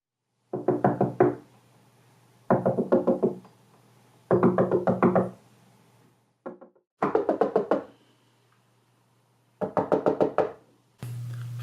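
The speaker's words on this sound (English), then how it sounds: "I tapped on each individual pane in the windows one at a time." Window panes tapped one at a time with the knuckles, sharp glassy knocks in quick clusters of about four to six raps, separated by short pauses, close and clear with no talking.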